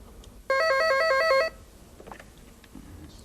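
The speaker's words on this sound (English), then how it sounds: "I'm first going to make a perfectly normal call, as I did before, to Joe from this telephone" A telephone rings with a single electronic warbling burst lasting about a second, loud and clear against a quiet room, before a normal call is connected.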